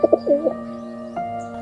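A pigeon coos in a few soft, rolling notes near the start, then falls quiet against a steady low hum.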